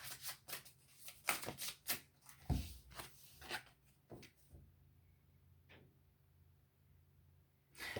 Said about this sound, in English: I'm just going to draw a couple of random cards for the next week.